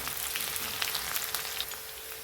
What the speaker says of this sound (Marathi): मिरची पण आपल्याला तेलावर छान परतून घ्यायची